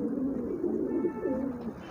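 Breeding pigeons coo steadily at close range, their low, rolling, warbling calls overlapping continuously with no talking.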